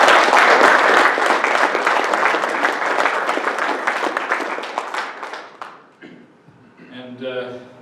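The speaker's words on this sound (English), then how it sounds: "give them a round of applause" An audience at a professional society meeting claps in dense, loud applause that fades out over several seconds, followed by a voice speaking briefly at the end.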